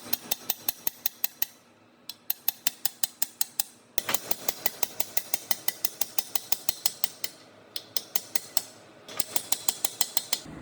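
Tapping a PTO gear onto its shaft while rebuilding the torque tube of an Allis Chalmers WD tractor: a long run of sharp metallic taps, close and evenly spaced, with brief pauses between bursts.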